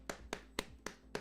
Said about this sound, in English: you can see I'm clapping and it's still coming across the microphone